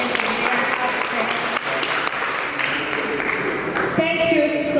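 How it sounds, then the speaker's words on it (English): Audience applause at a WordCamp conference in Jinja, a room of clapping that holds steady for several seconds and then thins out, with a voice speaking over it near the end. "Let's give them a hand of applause"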